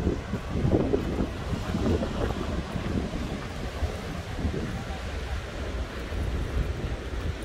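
Pacific Ocean waves wash along the long crescent bay of Qixingtan in Hualien. Steady surf rumbles under strong buffeting wind noise on the microphone, and no one speaks.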